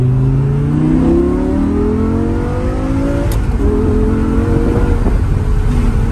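A supercar engine revs hard and climbs through the gears, loud and close, with sharp crackling exhaust pops as it shifts.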